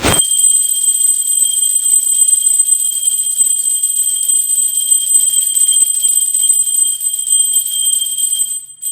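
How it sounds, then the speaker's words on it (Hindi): A small hand bell rings continuously during a Ganesh aarti puja, a bright, sustained metallic ringing that stays loud and steady for the whole stretch with no voices. "आप घंटी बजाकर भी जो है ना आरती कर सकते हैं"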